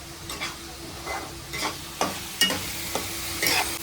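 Masala for a fish curry fries in a pan with a steady sizzle, while a spoon stirs and scrapes it in a few distinct strokes, close by and without talk.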